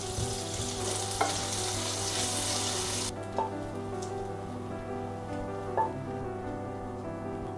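Cut pecans fry in butter in a pan, a continuous crackling sizzle that is bright at first, then drops to a softer, quieter frying hiss with a few faint clinks.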